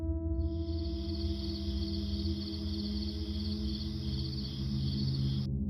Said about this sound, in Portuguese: A floresta estava viva com os sons de grilos